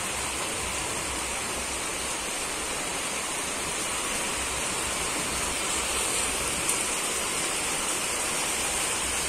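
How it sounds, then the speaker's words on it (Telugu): Rain begins falling outdoors in large drops while the sun still shines, making a dense, even hiss that holds steady and fairly loud throughout with no other sounds standing out. "ఇలా అయితే వర్షం స్టార్ట్ అయిపోయింది."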